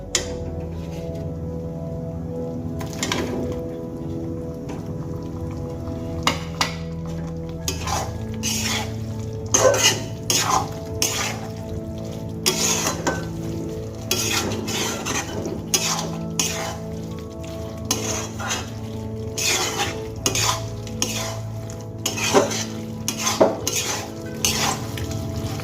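Okra and spice paste stir-fried in a pan for dahi bhindi, with a spoon repeatedly scraping and clinking against the metal over a soft steady sizzle, close and continuous, no talking.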